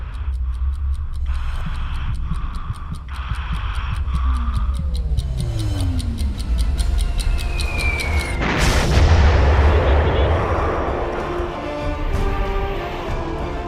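Scalp missile launched from a Dassault Rafale jet, a loud continuous rushing roar with rhythmic ticking beeps early on and a sharp rising surge partway through, sustained and close without talking.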